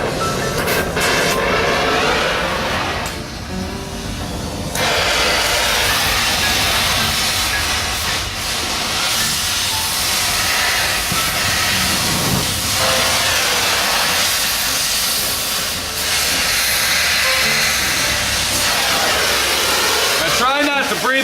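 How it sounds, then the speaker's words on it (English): A torch flame heats and melts an old rubber bushing on a 1961 GMC truck, a loud continuous roaring hiss that fills the whole stretch and briefly dips twice, with someone talking over it. "as you can see the fire hitting it, that means that the rubber is starting to melt"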